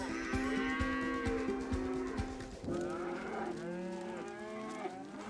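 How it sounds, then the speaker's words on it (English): Cows moo repeatedly in loud, drawn-out calls that overlap one another, close by on a farm where cattle graze along a river, with no talk. "allowed the cows to graze along the river so they had water to"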